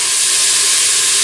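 Sliced onions and garlic sizzle in hot oil in a pot for a veal tajine, giving a steady, loud, close hiss with no pauses.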